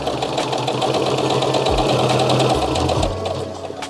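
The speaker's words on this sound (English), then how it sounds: "stitch close to that fold" A sewing machine stitches a summer dress close to a fold line, running in a steady continuous whir near and loud, with its motor pitch dipping briefly a few times before slowing toward the end.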